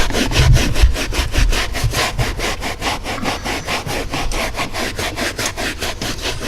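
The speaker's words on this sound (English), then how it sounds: "She's just going to scrub away." Stiff interior brush scrubbing stained upholstery inside a neglected Jeep Grand Cherokee, a steady rhythmic back-and-forth rasp of quick even strokes, close and loud throughout with no talking.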